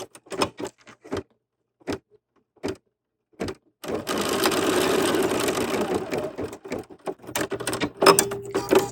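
An embroidery machine stitches a placement line, starting with a few short separate bursts of stitching and then running in a steady, continuous mechanical whir, close and fairly quiet.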